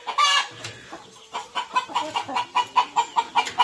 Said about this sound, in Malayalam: അസീലും നാടനും കൂടെ ക്രോസ് വരുന്ന നാട്ടുകോഴി